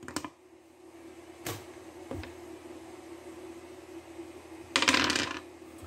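Dice clatter during a tabletop game: a few sharp clicks early on, then a short, bright rattling burst near the end over quiet room tone.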